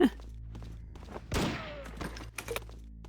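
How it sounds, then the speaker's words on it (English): A loud explosion bursts out in a video game map, a heavy boom with a crackling, decaying tail, set among scattered game noises and quieter thumps and clicks. "this explosion does kill you"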